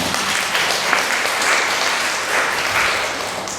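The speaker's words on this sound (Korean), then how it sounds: "박수 한번 쳐주셨습니다" Steady, dense applause from a classroom audience at a writing-instruction lecture, a continuous wash of many hands clapping at even loudness with no voices over it.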